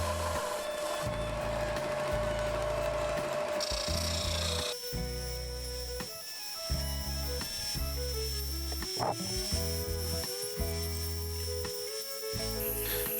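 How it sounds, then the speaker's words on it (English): A belt and disc sander grinds wood down to a marked line in a workshop, with a steady motor hum broken by repeated rasping bursts as the workpiece is pressed to the abrasive. "I used the belt and disc sander to sand to the line"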